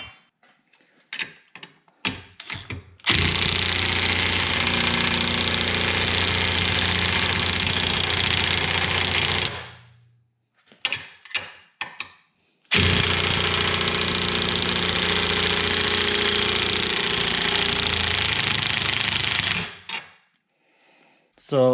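A DeWalt DCF923 20V 3/8-inch cordless impact wrench on setting 1 drives a 5/16 bolt, its loud rapid hammering running in two long sustained bursts, each led by short stuttering blips and ending abruptly.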